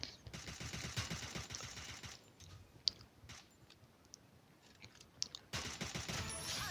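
Automatic gunfire in the shooter game Free Fire rattles in rapid bursts, loud at first, dropping away mid-stretch, then resuming sharply toward the end.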